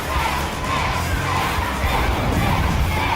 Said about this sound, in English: The crowd love it, the team doesn't.